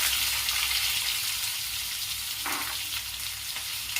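Onions hitting hot oil with toasted cumin in a pan, a loud steady sizzle and crackle of frying that swells sharply as they go in and keeps going alone.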